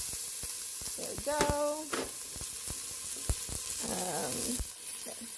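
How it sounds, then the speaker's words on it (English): Onions dropped into hot olive oil in a pot for a vegetable quinoa soup, a continuous close sizzle broken by clattering utensil knocks and brief squeaky tonal scrapes. "I'm just going to start by adding in my onions. This is probably going to get a little loud"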